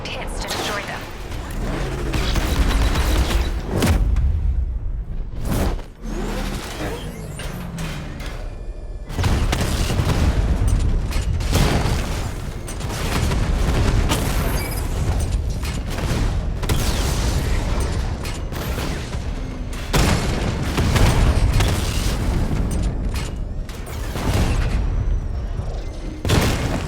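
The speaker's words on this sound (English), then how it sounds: "Your 60mm cannon will penetrate these heavily armored units, but it'll take a few direct hits to destroy them." The Batmobile's 60mm cannon fires repeatedly in Batman: Arkham Knight, with booming blasts and explosions layered with mechanical clanks, loud and continuous, while a voice talks over the action.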